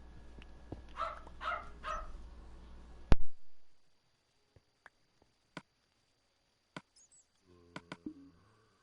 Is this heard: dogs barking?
yes